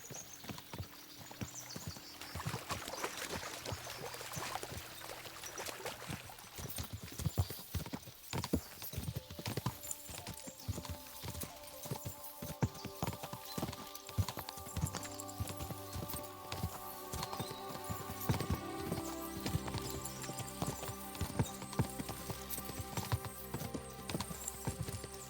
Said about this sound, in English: As soon as we cross the stream, we'll give the horses a gallop again